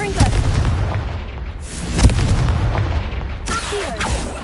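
A Confringo fire spell blasts in the Hogwarts Legacy video game, sounding as loud booming explosive bursts with rumbling tails that repeat in quick succession.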